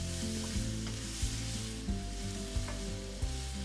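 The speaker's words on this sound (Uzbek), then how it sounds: "Ozgina yog'da piyozni qizarishni boshlaguncha qovurib, ketidan qo'ziqorin va tovuq filesini qo'shib yoramiz" Onion, mushroom and chicken fillet fry in a little oil with a steady, close sizzle. Soft stirring knocks recur about every half second, and no one speaks.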